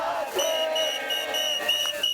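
A crowd of protesters in a Tel Aviv street chants slogans together, a loud sustained massed shout with sharp peaks, rising above the noise of the demonstration.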